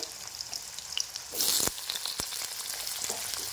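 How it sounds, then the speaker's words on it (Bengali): Sliced potatoes slide into hot oil in a pan for a cabbage bharta, setting off a loud burst of sizzling that settles into a steady, close frying crackle. "তেল গরম হয়ে গেছে, এবারে তেলের মধ্যে আমি আলুটাকে ছেড়ে দেব, মানে আলু ভাজতে দেব"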